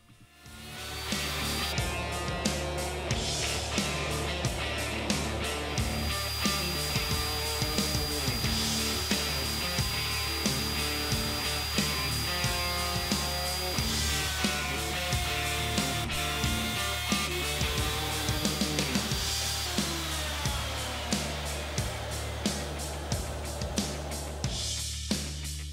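A router on a router table cuts coping profiles into the ends of cabinet door rails, a loud sustained motor whine with dense tonal layers and regular pulses throughout, with no speech.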